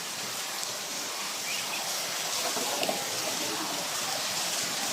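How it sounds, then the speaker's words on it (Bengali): Steady rain falls in a dense, even hiss that holds at a moderate level throughout, with faint birdsong in the background and no talking. "আমাদের এই যে বৃষ্টি আইসো, এত বৃষ্টি"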